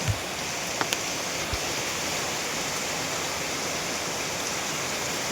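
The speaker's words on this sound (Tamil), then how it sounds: "நல்லா மழை பெய்யுது. நேற்றுலேருந்து மழை பெய்யுது." Heavy outdoor rain gives a steady broadband rushing hiss, with a few faint knocks and taps early on, and no one speaks.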